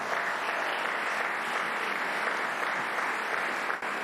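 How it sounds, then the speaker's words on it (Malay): Steady, dense applause from a large audience fills the whole stretch, evenly loud and continuous with no voices over it, cutting off briefly near the end. "lelaki itu memang layak mendapat tepukan"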